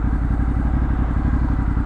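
A 2019 Ducati Hypermotard 950SP engine runs close and loud with a deep, throbbing, uneven twin-cylinder pulse, alone with no voices.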